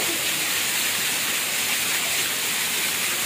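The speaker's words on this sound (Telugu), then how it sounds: "వర్షం పెరిగిపోయింది." Heavy rain pouring down during a downpour in Kakinada, a dense, steady hiss with no gaps or changes, loud and close.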